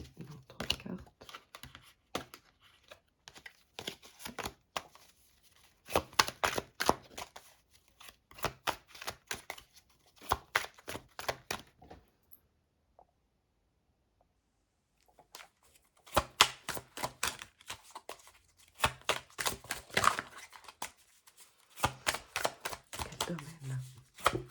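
Tarot cards shuffled and dealt in a reading: rapid papery riffles and flicks come in dense bursts, break off into near silence midway, then resume, with a person speaking quietly at times.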